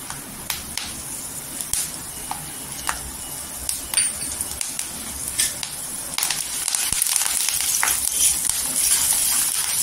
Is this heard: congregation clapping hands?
no